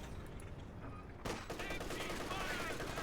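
Machine gun fire in Company of Heroes 2, an Ostheer-versus-Soviet match: a dense rattling burst that grows louder partway through, mixed with other battle noise and layered under the game's soundscape.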